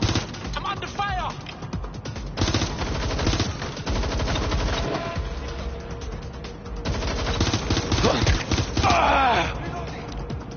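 Automatic gunfire and scattered shots in the video game Watch Dogs Legion, loud bursts layered with chaotic game sounds, background effects and voices across the clip.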